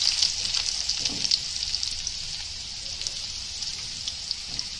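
Cumin seeds and garlic sizzling in hot oil, a continuous bright hiss with faint crackling pops, fairly close and steady throughout.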